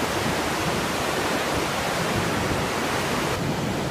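Ocean waves surging at the Deltawerken storm barrier in the Netherlands, a continuous broad wash of surf and strong current with wind, loud and steady throughout with no talk.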